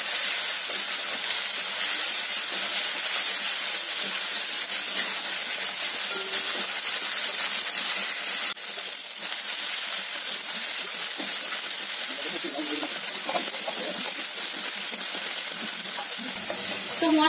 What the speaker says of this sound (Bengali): এবার মশলাগুলো ভালো করে কষে নেব।